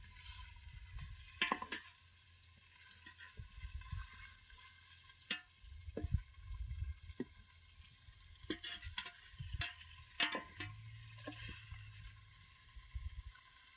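Food fries in a small amount of oil in a home kitchen, with faint crackling and sizzling broken up by several soft clinks and scrapes of stirring.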